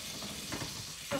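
Steady frying sizzle from food in a 15-inch Magnolite pot, with a brief stirring scrape near the end and no voices.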